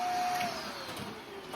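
A household vacuum cleaner runs steadily with a droning whine, fairly close and at moderate loudness, with no talk over it.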